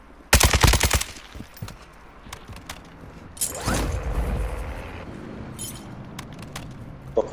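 Bursts of automatic gunfire in the Warzone 2 video game, a loud rapid volley at the start followed by scattered single shots and mechanical clicks amid game ambience.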